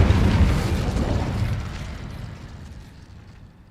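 A fire spell cast in a Wizarding World video game, a loud whooshing burst that is strongest at the onset and then dies away over a few seconds, with no talk.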